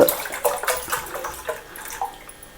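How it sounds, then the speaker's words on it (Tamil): Water splashes and gurgles in uneven gushes as it is poured into a pot set on a stove burner over high flame, close and fairly loud. "பாத்திரத்தில் அரைவாசி இருக்கிற மாதிரி தண்ணி ஊற்றிக்கோங்க"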